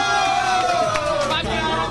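A quiz-show audience cheering and whooping for a contestant named Pino, a brief burst of crowd noise with raised voices and chanting over a busy hall.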